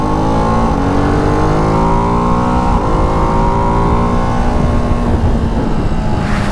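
A Ducati Hypermotard 698 Mono RVE single-cylinder motorcycle engine revs hard and loud, pitch rising as the throttle is rolled on, continuous and close with wind noise, no speech.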